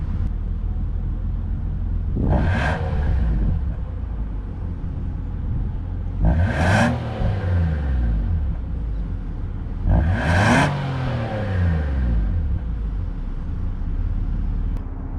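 The exhaust of a 2020 Nissan Pathfinder's 3.5 liter V6 revs three times over a steady idle rumble, each blip rising sharply and falling away slowly, heard close up with no talking.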